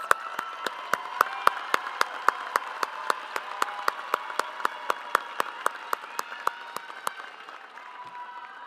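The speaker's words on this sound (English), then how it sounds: "Let's give them a round of applause." An audience applauds graduates at the UL Lafayette College of Engineering spring 2025 commencement: sustained, moderately distant clapping with sharp clicks repeating at a steady pace, all tapering off near the end.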